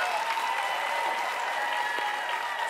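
Studio audience applause and cheering on a television talk show taping in Chicago, a steady dense wash of clapping filling the whole stretch without a break, loud and close.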